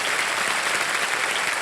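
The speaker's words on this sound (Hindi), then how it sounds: "ताली बजाएं इनके लिए" A studio audience at a television quiz game show claps loudly and continuously, a dense, even wash of applause with no pauses.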